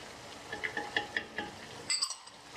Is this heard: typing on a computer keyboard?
no